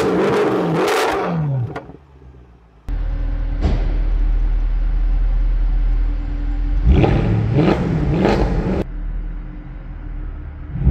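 A Mercedes C63 AMG's 6.2-liter naturally aspirated V8 idles with a deep rumble, then revs hard in sharp bursts, loud and close, before dropping back to idle.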